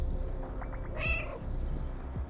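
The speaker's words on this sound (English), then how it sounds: "You can meow when you sleep" A cat meows in the video game Stray, a single clear meow rising briefly over a steady low ambient background hum, close and distinct.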